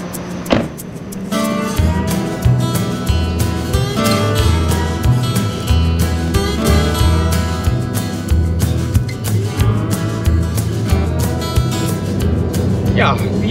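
A car cruises along Interstate 40 in the early morning, a steady interior engine and road hum filling the cabin at constant loudness, with people talking over it.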